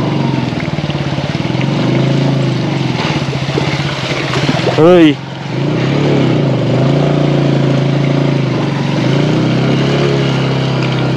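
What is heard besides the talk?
motorcycle engine revving, wheels spinning in muddy rice field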